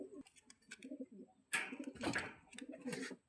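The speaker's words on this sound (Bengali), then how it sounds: "তো ভিউয়ার্স এক জোড়া কবুতর দেখাচ্ছি" Soft, throaty cooing from a pair of pigeons nearby, repeated in rising and falling phrases with a few brief chirps and rustles, faint overall and without talk.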